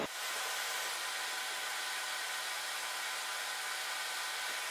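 A hot air station set to 100 degrees blows steadily over an Xbox One S circuit board to dry off isopropyl alcohol, a constant close airy whoosh with a low hum, no talking.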